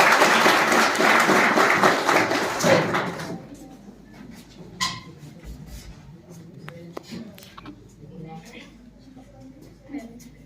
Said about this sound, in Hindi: आप सबसे निवेदन है कि जोरदार तालियों से हिमांशी दी का स्वागत करें।